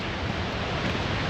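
Glacier meltwater waterfall at Svartisen glacier in Norway, heavy flow of water heard from a distance as a faint, steady wash of broadband rushing noise with no voices.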